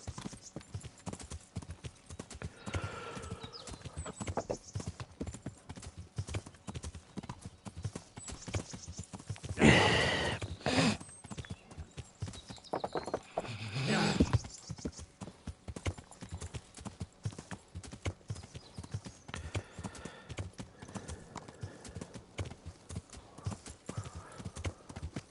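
Horse hooves clip-clop steadily on the ground in the medieval game Kingdom Come Deliverance, a continuous rhythmic trot with a louder burst midway and a brief whinny-like call.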